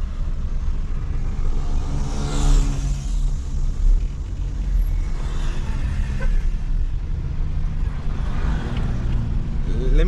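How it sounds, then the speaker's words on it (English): Busy downtown street traffic in Nairobi, with a steady low rumble of car and truck engines, passing vehicles and general city din filling the scene, faint voices mixed into the background. "Traffic again."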